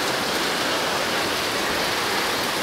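Clean, spring-fed waterfall at Cascada de Quetzalapan, a steady close wash of falling water hissing evenly and loudly throughout, with no voices.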